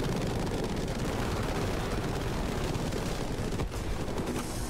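Continuous rapid aircraft gunfire strafing a bomber in Battlefield 5, a dense, loud, unbroken rattle of shots with a brief dip near the end before it resumes.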